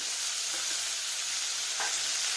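Chopped tomato pieces sizzle steadily in a hot pan during the making of a Nellore-style okra curry, a continuous broad hiss with a couple of faint clinks and stirs, close and without talk.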